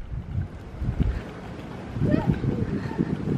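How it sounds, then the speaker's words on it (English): Wind gusts outdoors at the Port Orleans French Quarter resort in Walt Disney World, heard as low, buffeting rumble against the microphone that swells and strengthens in the second half, with voices around it. "Look at the wind."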